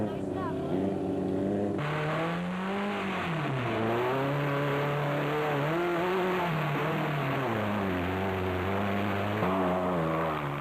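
Off-road race vehicles tear through the Stokkiesdraai 200 in 2005, their engines holding a loud, continuous roar whose pitch swells and dips as they rev, close and unbroken for the whole stretch.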